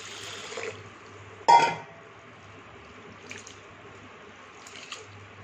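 A short splash of water stands out as soaked grains are rinsed, followed by faint sloshing and quiet dribbles over low background noise.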